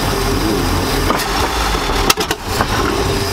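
A 1999 Chaparral 1930 SS boat's engine idles loudly and steadily, then a clunk and a few short knocks mark the shift into gear before the running drone carries on.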